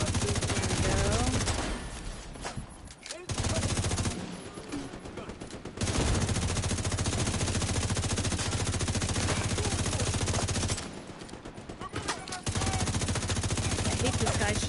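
Sustained enemy gunfire in The Division 2, dense automatic bursts and rapid shots running almost continuously, with brief lulls where the shooting drops away before resuming loud and close.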